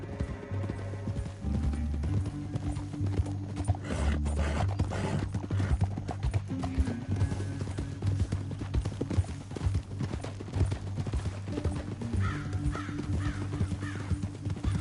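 Horses galloping in the video game Red Dead Redemption 2, a steady rhythmic clip-clop of hooves under a continuous musical score, with occasional louder hoofbeats throughout.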